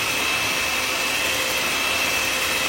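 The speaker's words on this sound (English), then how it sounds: "This is whisking the mess out of these eggs." Eggs being whisked hard for an egg and sausage pie, heard as a steady, loud, even whirring hiss that holds without a break from start to end.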